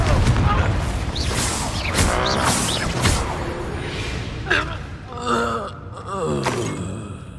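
Confringo spell explosions in Hogwarts Legacy, a few booming bursts over dense game noise with a constant low rumble, while a character's gasps and vocal grunts sound alongside.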